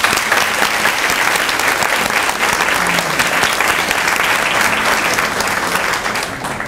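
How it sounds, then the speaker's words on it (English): Audience at a Mayor's Committee for Persons with Disability awards event giving a speaker a round of applause, dense steady clapping from a crowd that stays loud throughout and tapers slightly at the end. "Let's give him a round of applause."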